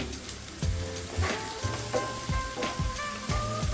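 Onions frying with salt over a full flame sizzle and crackle in a pan, with sharp intermittent pops and stirring knocks against a steady frying hiss.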